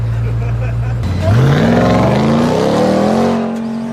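A loud truck engine roars and climbs in pitch during a hard drag-racing pull, the tone rising steadily through the gears before easing off.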